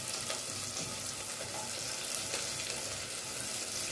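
Onions fry in oil in a pan for an eggplant kuzhambu, giving a continuous even sizzle and crackle with faint stirring, moderately quiet and steady throughout.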